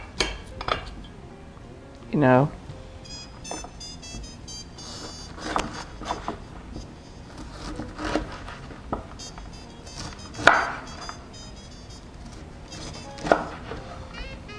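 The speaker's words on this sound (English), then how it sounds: "I'm just going to cut these little florets here into the dish" A knife cuts cauliflower florets into a dish, giving soft, irregular chopping taps and light clinks of the blade against the dish, some sharper than others, scattered across the stretch with faint voice-like sounds in between.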